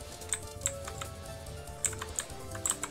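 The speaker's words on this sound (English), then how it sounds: "We really like loud clicks." Loud clicky computer keyboard keys pressed in quick, uneven bursts during a Touhou 6 game stream, each keystroke a sharp, close tick over a steady background hum.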